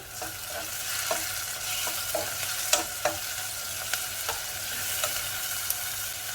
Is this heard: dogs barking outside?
no